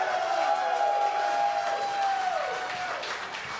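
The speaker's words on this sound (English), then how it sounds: "you guys clap your hands for the amazing show that we provided." A comedy show audience applauds, a steady wash of clapping that sounds fairly distant and stays even until it eases slightly at the end, with a sustained tone running underneath.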